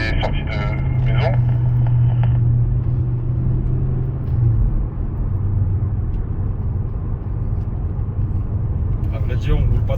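An Audi RS3 driving on a road, a loud continuous engine and tyre rumble with a steady low drone, while someone talks over it.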